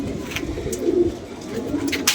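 A pigeon coos softly and low, a few murmuring calls close by over faint background noise, with no voices.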